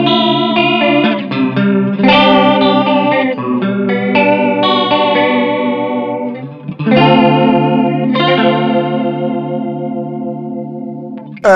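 Electric guitar played through a Japanese-made BOSS CE-3 chorus pedal set to a high rate, with loud, ringing chords and single notes wobbling in a fast, swirling shimmer, played alone with no talking.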